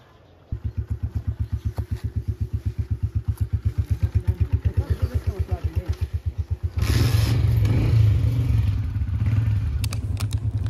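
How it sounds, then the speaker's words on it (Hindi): Motorcycle engines start in Yasin Valley, Gilgit-Baltistan, Pakistan, settling into a rhythmic thumping idle, then rev loudly and pull away with a rising roar. "जी तो हमारे बाइक इस वक्त स्टार्ट हो गए हैं और हम यहाँ से अब निकल रहे हैं।"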